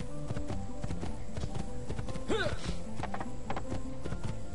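Horse hooves clip-clop steadily while riding in the video game Assassin's Creed 2, a regular rhythmic beat under game ambience, with a brief whinny-like sweep midway.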